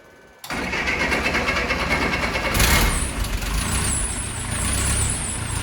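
A 1914 Model T Speedster engine fires up after a moment of near silence and keeps running with its exhaust cutout closed, a steady close rumble with a brief surge partway through.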